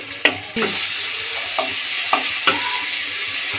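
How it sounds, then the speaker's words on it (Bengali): Ginger-chili paste and tomato being stirred and fried in a pan: a steady sizzle with several distinct scraping stirs of a spoon, close and clear, with no talk. "দিয়ে বেশ কিছুক্ষণ ধরে আবার বেশ নাড়াচাড়া ভাজা করে নেব।"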